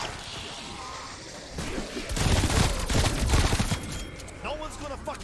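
Hip-fired gun in a shooter game, a rapid burst of loud gunfire that swells in the middle and trails off, with a voice talking faintly beneath.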